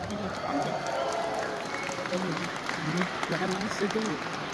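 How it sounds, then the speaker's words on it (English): A fan convention audience claps and cheers in a steady wash of applause, heard from within the hall with voices mixed through it. "How many big cheer for George being here, guys?"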